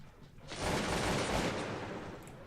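A musket volley from infantry ranks in the Cossacks 2: Battle for Europe video game sets off a loud, dense roll of crackling gunfire that starts abruptly and lasts about two seconds before tapering off.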